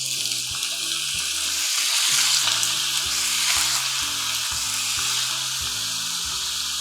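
Squid sizzling and frying steadily in hot oil with cumin, a dense continuous hiss close by with faint stirring, no talk.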